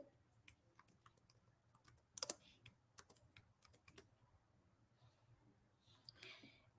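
Quiet, close computer keyboard typing in short irregular bursts of key clicks as a name is entered, with a louder cluster midway and pauses between runs.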